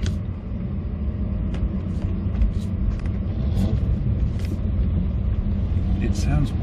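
A 1989 Renault 5 1.2TR with its small engine driving, a steady loud rumbling drone with some revving, close and continuous throughout, with speech-like noise mixed in.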